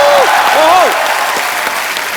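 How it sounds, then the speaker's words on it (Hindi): Studio audience applause on a comedy show stage welcomes a singer, thick continuous clapping at moderate loudness, with a sung or spoken voice gliding over the start before the clapping carries on alone. "जोरदार तालियां बनती हैं और जोरदार"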